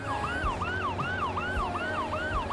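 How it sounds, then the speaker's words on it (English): A police siren in the driving game Motor Maven wails in a repeating rising-falling sweep, steady and fairly prominent over a low rumbling vehicle engine. "I heard the police siren."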